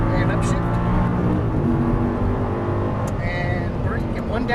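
A 525 hp Audi R8 V10 pulls at full throttle, its engine note rising and then dropping at two upshifts, loud from inside the cabin while a voice speaks over it.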